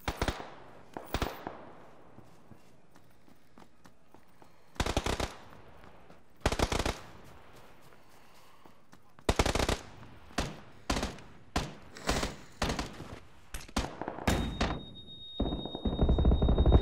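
An SMG fires in PUBG, first in short separated bursts and then in faster, denser volleys toward the end, sounding loud and close with quiet gaps between the strings of shots.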